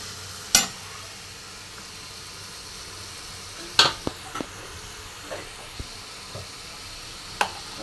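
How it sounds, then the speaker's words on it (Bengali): Cashews and raisins frying in a pan produce a soft continuous sizzle, broken by a few sharp clinks and scrapes of a spoon against the pan, heard up close with no voices. "কাজু কিশমিশটা দিয়ে এবার এটা ভাজা ভাজা হচ্ছে।"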